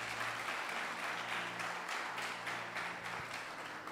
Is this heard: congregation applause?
yes